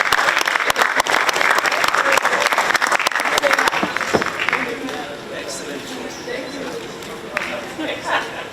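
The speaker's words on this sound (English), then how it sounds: "Give them a big round of applause, they definitely deserve it" An audience at a sports innovation competition final applauds the team loudly, then the clapping fades after a few seconds into a murmur of crowd chatter and babble.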